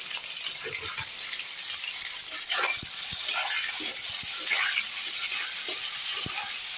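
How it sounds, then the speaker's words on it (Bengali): Thin-cut potatoes fry in oil for a Bengali doi rui dish, a steady bright hissing sizzle with soft pops and occasional stirring clicks. "একটু তেলের মধ্যে আলুগুলো আমি লাল লাল করে ভেজে তুলে দিচ্ছি"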